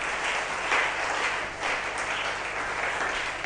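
A church congregation applauds in a dense, continuous wash of clapping that holds steady from start to finish, with no voices standing out.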